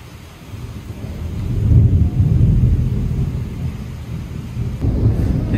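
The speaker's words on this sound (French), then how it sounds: "J'aime pas entendre les éclairs qui frappent proche." Thunder from a nearby thunderstorm rolls as a deep, sustained rumble, swelling and easing over several seconds, heavy and close with faint rainy hiss above.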